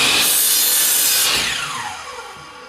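A miter saw cuts through the end of a wooden board, a loud steady whine of blade through wood that tapers off as the saw spins down.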